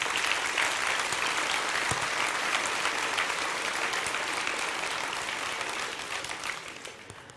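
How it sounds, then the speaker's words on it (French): Sustained applause from an audience at a mayor's New Year greetings ceremony in Romans-sur-Isère, a dense even wash of clapping that fades slightly toward the end. "Je vous demande de l'applaudir"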